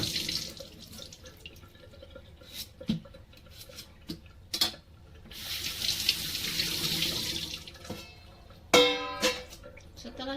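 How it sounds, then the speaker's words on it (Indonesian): Peeled carrots rinsed under a running kitchen tap, with water splashing and trickling in a sink, interrupted by brief clatters and knocks, and a louder gush of flow near the end. "setelah dikupas dicuci lagi"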